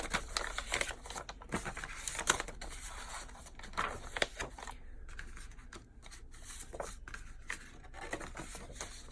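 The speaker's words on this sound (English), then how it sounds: "I'm going to throw in a piece of coffee dyed paper here." Coffee-dyed paper sheets handled and laid into a handmade journal signature, giving soft, close papery rustles and shuffles with a few light taps, quiet and without talk.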